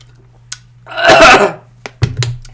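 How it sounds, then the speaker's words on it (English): A single loud, harsh cough right up close, followed by a couple of short throaty sounds and a faint click. "I should just cough right into the mic."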